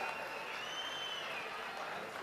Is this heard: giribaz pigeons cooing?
no